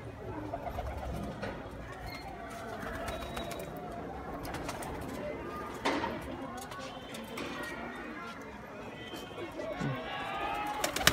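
Pigeons in a loft coo softly and repeatedly amid steady background noise, with occasional rustles and thumps.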